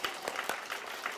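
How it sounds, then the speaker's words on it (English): Audience applause at a library event, a short burst of scattered hand claps in a steady, fairly loud patter, with no talking over it. "Give yourselves a big round of applause, everybody."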